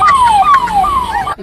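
Ambulance siren sound effect, loud and close, repeating falling wail in three quick sweeps before cutting off.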